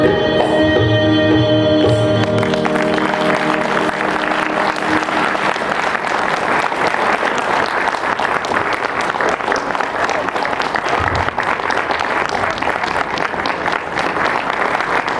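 Sustained applause from a large audience honoring performers at a stage show, dense and loud throughout, with music fading out in the first couple of seconds.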